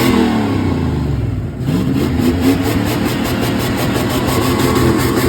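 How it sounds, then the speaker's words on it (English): A turbocharged junkyard truck engine with a blown turbo revs loudly and close, dipping briefly then surging back into a sustained rough roar with a whining, pulsing overtone. "I just blew that turbo."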